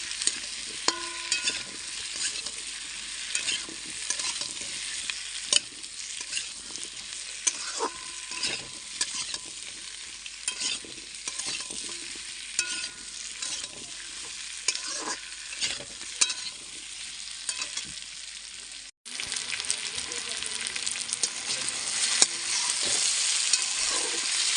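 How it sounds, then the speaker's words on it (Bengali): Potatoes fry with onions in a pan, a continuous sizzle broken by frequent scraping and clattering stirring strokes, close and fairly loud with no voices. "দিয়ে এবারে পেঁয়াজের সাথে ভালো করে ভেজে নেবো আমি আলুগুলো।"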